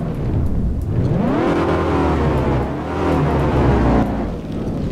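Dodge Ram 3500 pickup engine with stock exhaust in the Car Mechanic Simulator 2018 game, revving up and down in two loud sustained swells, the pitch climbing and falling, with no talking.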